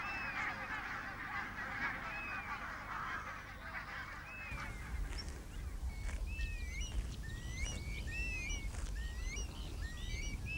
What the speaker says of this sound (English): The first geese depart for Iceland, a staging post on their long onward flight to Greenland.